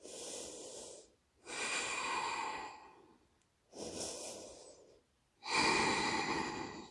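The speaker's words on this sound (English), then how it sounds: "Come into the breath, in and out through the nose." Four slow, deliberate breaths drawn in and pushed out through the nose during a yoga plank flow, each a loud, airy rush lasting over a second with short quiet gaps between, close and alone with no talking.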